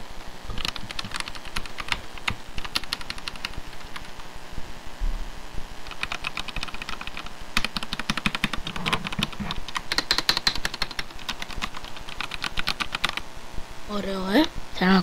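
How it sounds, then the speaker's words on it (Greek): A new computer keyboard is typed on in quick, crisp bursts of clicky keystrokes, close and steady with short pauses, while a voice talks over parts of it. "Έχω πάρει νέο πληκτρολόγιο και ποντίκι. Ακούστε λίγο πως ακούγεται."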